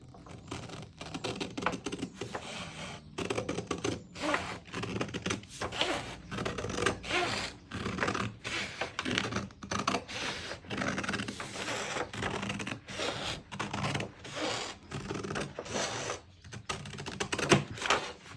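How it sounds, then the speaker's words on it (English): Scissors cut along the seam allowance line of a paper production pattern for a tote bag, a quiet, irregular series of crisp snips and paper crunches close by, with short pauses and no talking. "So I'm going to go ahead and just cut on that seam allowance line, dividing my patterns in two."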